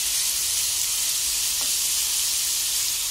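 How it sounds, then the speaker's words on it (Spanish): Pork meat frying in a pan gives a steady, loud, dense sizzle that holds evenly throughout with no pauses and no voices. "Vamos a dejarla que se fría un poco la carne."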